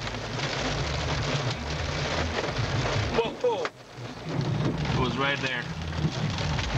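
Thunderstorm with steady heavy rain during a June storm in Saskatoon, a broadband wash of downpour with wind throughout, and someone speaking over it partway through.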